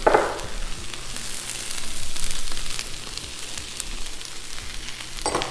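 Chopped vegetables fry on a Blackstone flat-top griddle for a taco skillet. The sizzle is continuous and broad, with a sharp clatter at the start and another near the end, and no one speaks.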